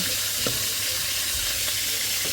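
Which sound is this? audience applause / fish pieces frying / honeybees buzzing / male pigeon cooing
fish pieces frying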